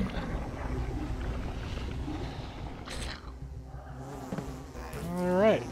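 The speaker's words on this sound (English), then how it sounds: "There's still a few bees around, but there's nothing I can really do about that." Bees in a video game buzz in a steady drone over a low background hum, with a rising synthetic whine near the end.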